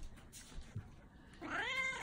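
An orange cat gives a single drawn-out meow near the end, close and clear, after a quiet stretch of faint room noise and soft bumps.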